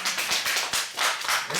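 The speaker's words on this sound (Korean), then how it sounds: "박수." A small group claps after a student answers correctly at a medical imaging student workshop: a short run of a few distinct, fairly close hand claps with uneven spacing, without talk.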